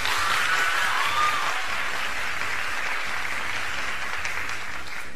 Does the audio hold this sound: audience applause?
yes